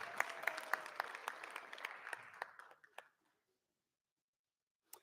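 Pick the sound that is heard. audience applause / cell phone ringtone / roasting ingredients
audience applause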